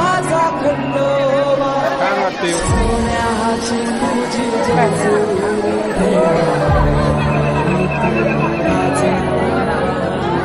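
Dense crowd at the Jejuri main temple, a constant loud hubbub of many voices and bustle that fills the whole stretch, with nearby speech over it.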